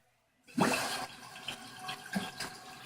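A toilet tank refilling through its fill valve as the water supply is turned back on: silence, then a sudden loud gush of water that settles into a steady hissing, splashing fill, close by.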